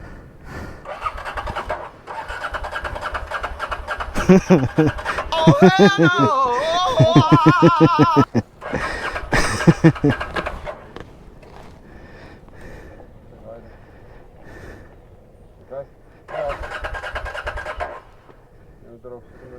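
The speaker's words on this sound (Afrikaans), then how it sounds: "Kom een voertuig af." A vehicle comes down a road at Mariepskop, its engine rising to a loud pass in the middle before fading, with voices talking and laughing nearby.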